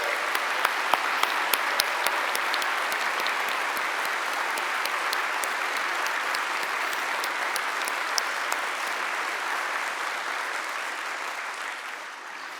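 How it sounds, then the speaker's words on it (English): A large audience at a London graduation ceremony claps steadily for over ten seconds, a dense even wash of applause that slowly tapers toward the end. "I think they deserve a special round of applause."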